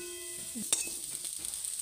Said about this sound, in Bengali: দেখো আলুটা ভাজা আমার প্রায় হয়ে এসছে লাল লাল করে।